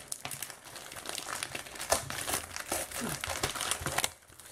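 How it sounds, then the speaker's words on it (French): Plastic shrink wrap being peeled and torn off a Pokémon booster display box, a steady close run of crinkling and crackling with small tearing bursts throughout, no talking. "Voilà, la display est décellée."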